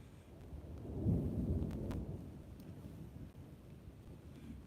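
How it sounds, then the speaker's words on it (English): Deep thunder from an approaching storm rumbles low and long near a Herkimer diamond quartz digging site, a broad swelling roll under steady wind noise. "Pretty big thundery storm coming in."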